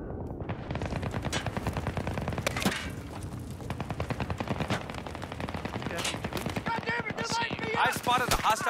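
Rapid automatic machine gun fire in the Battlefield 3 multiplayer game, with dense, continuous bursts of close shots rattling for the whole stretch and a few heavier cracks mixed in.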